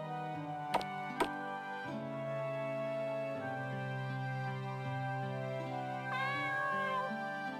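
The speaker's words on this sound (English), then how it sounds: "You can pet the cat." In the video game Kingdom of Neandria, a cat gives a couple of quick meows over sustained looping background music. The meows are short and clear but sit under the music.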